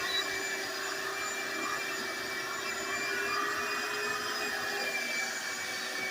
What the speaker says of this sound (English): But he's getting this vacuumed out.